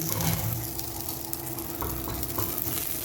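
Masala for kadai chicken is fried and stirred in a pan, a steady close sizzle with scraping stir strokes and a few light knocks, no voices.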